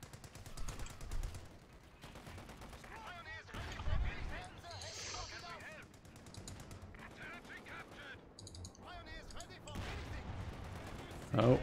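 Bursts of machine-gun and rifle fire in the World War II strategy game Company of Heroes 2 during a 1v1 tournament match, crackling in repeated volleys under continuous excited commentary.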